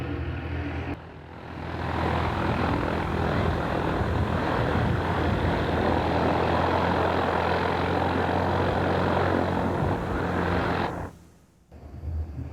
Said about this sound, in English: Ooh, a formation takeoff.